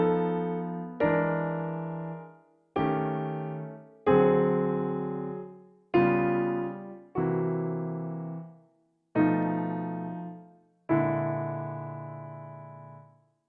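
A piano plays a slow chord progression in open, spread voicings, eight sustained chords struck one after another and left to ring, with a melody repeating the same idea on top.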